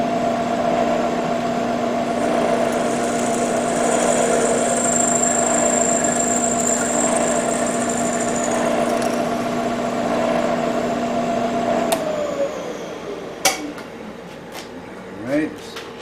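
Drilling the support arms of a pantograph, a machine drill runs with a steady whining hum for about twelve seconds, then spins down; a few clicks and metallic knocks follow near the end.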